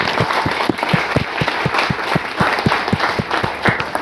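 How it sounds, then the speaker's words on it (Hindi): A crowd claps steadily in a dense, sustained round of applause, loud and close, with no talking over it. "पर जोरदार तालियां ठोक सकते हो।"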